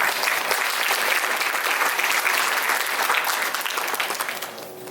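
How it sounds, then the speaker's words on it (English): Loud, steady audience applause at a Carnatic vocal recital, thick continuous clapping that fades slightly at the end. "Let's give another big round of applause for Taarun."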